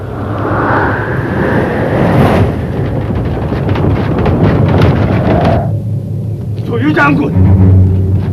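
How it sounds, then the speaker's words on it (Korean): A southeast wind rises over a river battle scene in an animated Three Kingdoms story, a loud continuous rushing and rumbling gust with bursts of noise and voices throughout. "바람이 불고 있습니다. 남동풍입니다."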